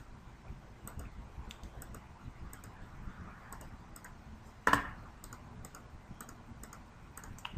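Faint, sparse clicks of a computer mouse come in a slow irregular rhythm while someone navigates devices on a geographic map in network monitoring software, with one sharper click partway through.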